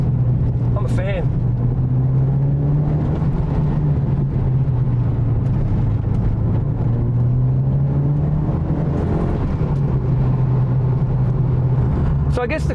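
A Mitsubishi Lancer Evo 6.5 Tommi Makinen edition on the move, its turbocharged engine holding a steady, loud drone with gently rising and falling pitch throughout.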